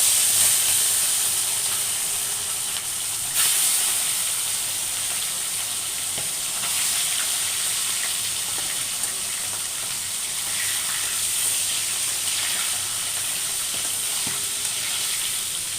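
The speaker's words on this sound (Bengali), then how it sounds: "এরকম করে আমি সব মাছগুলো আস্তে আস্তে ভেজে নেব।" Rohu fish pieces frying in hot oil, a steady close sizzle with bright crackling hiss that holds loud and even throughout, with a few brief bursts of spattering.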